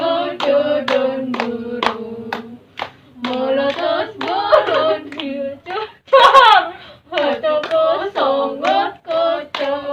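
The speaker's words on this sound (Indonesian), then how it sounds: "Sambil tepuk tangan juga boleh ya" A group claps hands along while singing together in a group counselling session, rhythmic claps running under several voices through most of the stretch, with a short pause midway.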